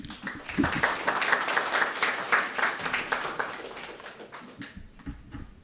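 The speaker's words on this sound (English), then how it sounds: "Let's welcome him with a big round of applause." Audience applause welcoming a speaker at a youth environment forum, a dense steady patter of many hands that swells early and slowly thins out toward the end.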